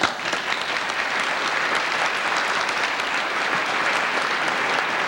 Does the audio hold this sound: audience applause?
yes